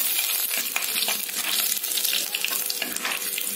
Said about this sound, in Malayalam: ഇനി ഇതിലേക്ക് നമുക്ക് 3 അല്ലി വെളുത്തുള്ളി അരിഞ്ഞത് ചേർത്ത് കൊടുക്കാം.